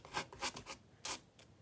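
A sanding block is rubbed over a Dollar Tree photo frame in short, rough strokes, about five rasping passes in quick irregular rhythm, close and fairly quiet.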